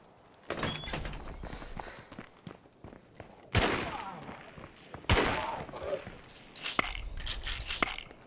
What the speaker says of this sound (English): Firecrackers.